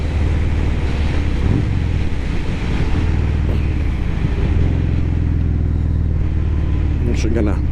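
A 2022 Harley-Davidson Fat Bob 114 fitted with a Cobra El Diablo 4-inch exhaust, heard while riding: a deep, continuous engine rumble mixed with heavy wind noise buffeting the microphone.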